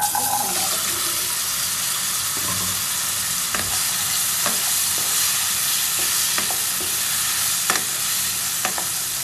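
Masala for kala chana (black chickpeas) fries in a pan with a steady hiss, punctuated by scattered scrapes and taps from stirring; no voices.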